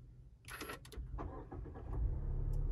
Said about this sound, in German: Und das Fahrzeug startet.